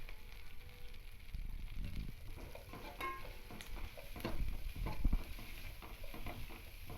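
Ginger-garlic paste and turmeric fry in a pan as they are stirred. A close, crackling sizzle runs under repeated scraping strokes, rising and falling with the stirring, with no voices.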